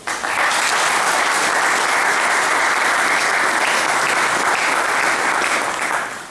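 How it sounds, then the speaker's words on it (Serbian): A hall audience at a Serbian war veterans' association forum in Vršac breaks into loud, dense applause, a continuous wash of clapping that holds steady for several seconds before tapering off. "Moram vas da pozdravim jednim aplauzom."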